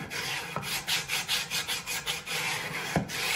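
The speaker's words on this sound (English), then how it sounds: "So I tend to get on all the edges when I'm sanding" Rhythmic rasping strokes of sandpaper rubbing along the edges of hardwood stair-gate parts, about a dozen quick back-and-forth passes, close and fairly quiet, with a couple of soft knocks.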